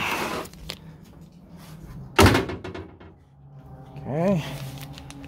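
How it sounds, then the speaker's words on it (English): 1969 Corvette C3 passenger door swung shut, a single loud sharp slam in the middle, followed by faint handling noises and a short voice. "let's go ahead and shut the door"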